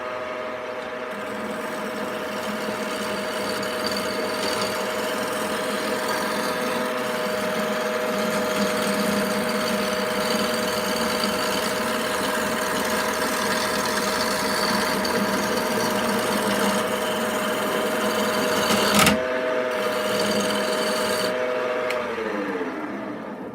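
Wood lathe turning a handle for a client while a sharp gouge shaves the spinning wood, a steady close motor hum with a constant tone and continuous cutting hiss, briefly interrupted near the end.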